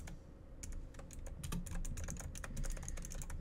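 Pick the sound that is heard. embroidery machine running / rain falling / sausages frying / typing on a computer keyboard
typing on a computer keyboard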